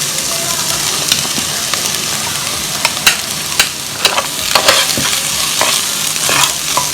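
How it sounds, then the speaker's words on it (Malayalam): Lentils (dal) are stirred into a pot with turmeric for bisi bele bath, a continuous frying sizzle punctuated by sharp scrapes and clinks of a spoon against the pot. "ഇനി നമ്മളിതിലേക്ക് പരിപ്പ് ഇട്ട് കൊടുക്കാൻ പോവാം."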